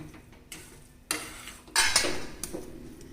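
Jaggery kesari being stirred with ghee in a pan, giving a few brief scraping clatters of a spoon against the pan with quiet gaps between them, close and fairly soft, with no talking.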